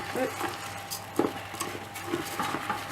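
Chicken curry and rice being stirred in a rice cooker pot, a close series of scraping, clinking stirs with a faint sizzle underneath, with brief talking.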